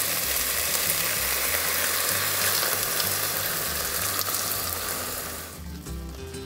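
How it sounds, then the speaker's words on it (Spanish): Chicken sizzling in a frying pan as rajas sauce with chiles is poured in, a dense loud crackling hiss that eases and softens near the end, close with no talk. "agregamos la salsa con rajas que acabamos de preparar"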